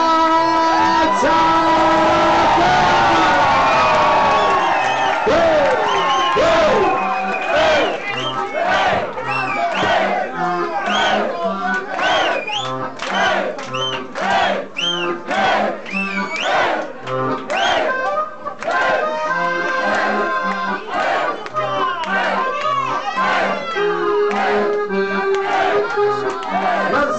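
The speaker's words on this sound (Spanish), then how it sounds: "un aplauso en la voz de Mar del Plata, Argentina, para el señor Cha-cha." A live concert crowd at a show in a Paris club cheers and whoops loudly, with rhythmic shouting and chanting that pulses in waves over nearly half a minute.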